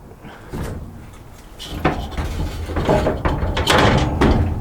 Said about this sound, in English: Got to try and get the bloody door to open now.